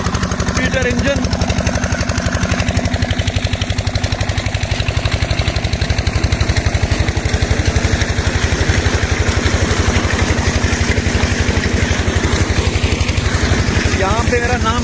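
A Petter engine installed in 2010 runs loud and close with a fast, steady mechanical thumping throughout, while someone talks over it.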